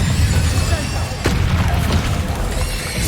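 An Incendio fire spell is cast in the video game Hogwarts Legacy, a loud whooshing blast with a sharp crack near the middle, over a constant rumbling bed of in-game sound.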